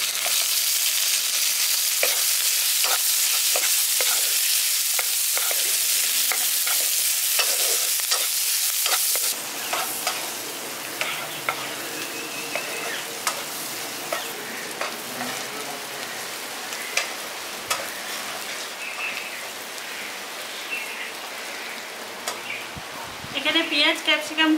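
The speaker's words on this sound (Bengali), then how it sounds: "এখানে পেঁয়াজ ক্যাপসিকামগুলোকে হালকা করে একটু ভেজে নিয়েছি" Onion and capsicum chunks fry in a pan for a village-style egg manchurian, sizzling loudly and hissing with occasional stirring scrapes. The sizzle drops sharply partway through and lighter frying and clinks continue with intermittent speech.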